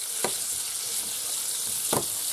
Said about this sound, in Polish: podsmaży się kiełbaska